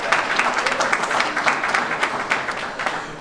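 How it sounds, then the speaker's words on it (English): A crowd at a building groundbreaking at 79 W. Monroe applauds the aldermen, a fairly loud, dense spell of clapping that holds steady, then eases off slightly toward the end, with no voices over it. "Can you give them, please, a round of applause?"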